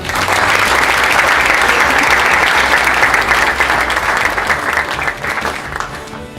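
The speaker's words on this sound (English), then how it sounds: "I think we owe the Hausman family a round of applause as well." A large audience at a YMCA annual meeting claps in a dense, sustained ovation, loud and even throughout before easing slightly at the end.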